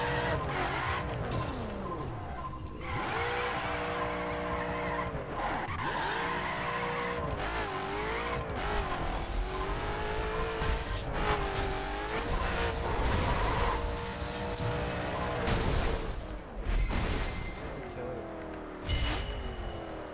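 Koenigsegg Agera R supercar in The Crew racing game, a loud sustained engine roar with rising and falling revs and tire skids throughout, sounding continuous and close.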